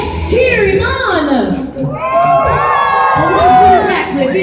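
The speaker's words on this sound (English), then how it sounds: "Let's cheer him on." A crowd cheers and shouts with rising whoops for a water stunt, loud and continuous, with excited voices calling out over the noise.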